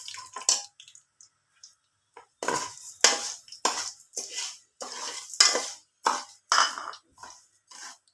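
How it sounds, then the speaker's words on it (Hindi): Sugar goes into a pot for zarda sweet rice, making a series of short, gritty scraping and stirring bursts separated by brief silences. The sounds are close and fairly quiet, with no voice. "अब इसमें ये चीनी में डालूंगी।"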